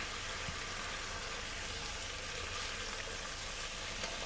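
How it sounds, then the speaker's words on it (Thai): Catfish pieces frying in a pan while being gently stirred, a steady dense sizzle filling the whole stretch without a break, close and fairly loud. "จากนั้นเราก็ทำการคนปลาได้เลยค่ะ"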